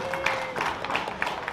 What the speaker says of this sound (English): A big round of applause for Alex Walters.